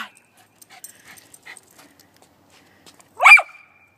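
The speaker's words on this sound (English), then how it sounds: "We just watched the video that Terra posted of Junot getting excited to see Olive and barking" A single short burst of dog barking comes from a played video, sounding once near the end after a mostly quiet stretch with faint background noise.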